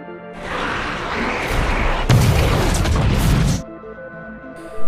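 Gasman blowing himself up in the zombie film Army of the Dead, a loud sustained blast and roaring debris rumble that swells, then cuts off abruptly.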